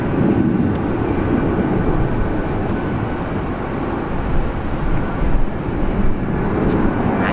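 A Jetstar airliner takes off at Sydney International Airport, a loud, continuous rumbling engine roar that swells slightly in places toward the end.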